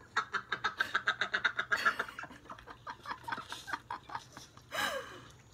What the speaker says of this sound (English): He's excited. Excitedly quacking.